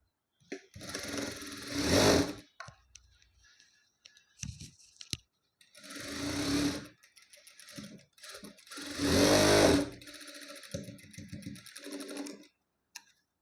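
A sewing machine stitches the side seams of a blouse in three loud close bursts, each running a couple of seconds, separated by quiet pauses and small clicks.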